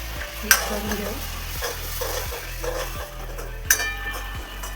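Tomato masala is stirred in a frying pan, a steady sizzle underlying rhythmic scraping strokes of a utensil against the pan, with a couple of sharper metallic clinks, no speech.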